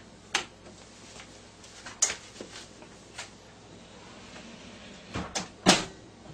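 The door of a casino slot machine is shut with a few sharp knocks and clunks, ending in a louder closing thud, close and alone.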